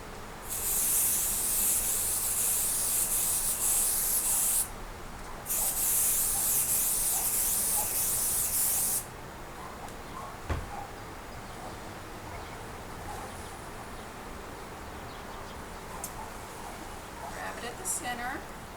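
A long, close hiss of aerosol spray adhesive onto fabric runs for several seconds, pauses briefly, resumes, then stops, followed by quiet handling sounds and a few soft words.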